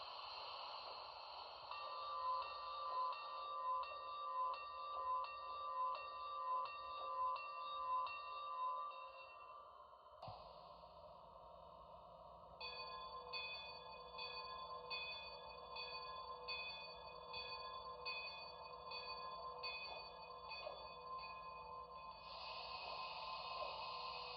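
A steady ringing locomotive bell from a Broadway Limited Imports Blue Goose model train sound decoder repeats in a regular rhythm alongside a mechanical hum, continuing throughout with a slight change in tone midway.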